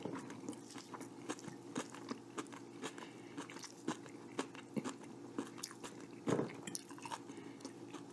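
Kimchi being chewed close to the microphone gives quiet, repeated crunchy bites and soft wet squishes in an uneven rhythm, with one louder crunch partway through, and no talking.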